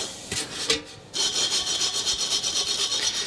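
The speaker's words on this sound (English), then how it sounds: "I'm blasting it around about 85 pound per square inch, and with a 3/16 or a 4mm-ish nozzle" Garnet abrasive sandblasts the roof of a 1970 Holden HG ute at about 85 psi through a 4 mm nozzle. A loud, continuous hiss starts after about a second of quieter scraping and holds steady with a slight pulsing.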